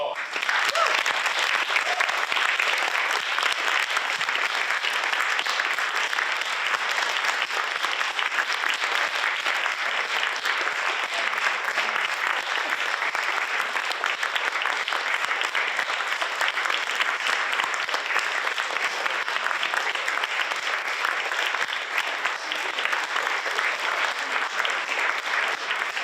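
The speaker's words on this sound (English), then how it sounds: "Let's give them a round of applause." Sustained applause from an audience at a community book-reading kickoff event, steady and dense throughout with no break, filling the room evenly.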